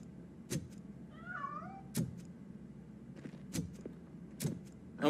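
A cat meows in the video game Roboco: Rogue City, a short wavering call rising over a quiet game backdrop punctuated by periodic soft thuds, with no voices.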